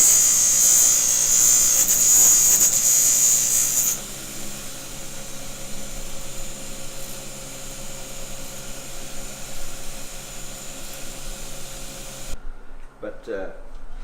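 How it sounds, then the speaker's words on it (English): Polishing wheel buffing motorcycle fender spacers for a shop-built chopper, a steady motor whine with a high harsh grinding tone for the first few seconds, then a lower hum, ending in brief quieter handling noises. "we go to the polishing wheel."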